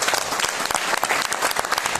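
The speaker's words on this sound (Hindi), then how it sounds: "एक बार जोरदार तालियां बनती है कंपनी को।" A training audience at an agriculture session breaks into loud, dense applause, steady and close throughout the short burst with no talk over it.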